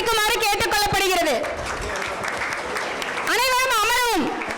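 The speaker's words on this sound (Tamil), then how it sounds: "அனைவரும் மிகுந்த கரகோஷத்தோடு அதனை சிறப்பிக்குமாறு கேட்டுக் கொள்ளப்படுகிறது" Applause from a seated audience at a school book release, a dense broad wash of clapping between and under loud voiced speech from a presenter at the start and end.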